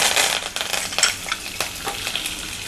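Curry leaves, chana dal, urad dal and dried red chillies fry in hot oil, crackling and sizzling close up, with quick spattering pops and scraping stirring clicks over a steady hiss.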